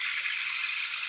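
A homemade rain stick tipped so its filling pours in a dense, bright hiss of tiny patters like falling rain, steady and close for about a second, no talking.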